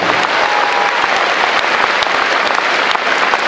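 A large concert audience in the Kremlin gives dense, sustained applause for a singer, a loud, steady wash of many hands clapping at once.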